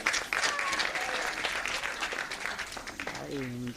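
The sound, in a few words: audience applause for show director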